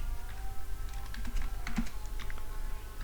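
Keys clatter on a computer keyboard in quick irregular bursts, soft and close against a faint background hum, with no speech.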